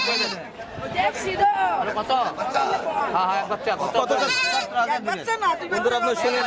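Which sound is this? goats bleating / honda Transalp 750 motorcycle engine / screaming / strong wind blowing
goats bleating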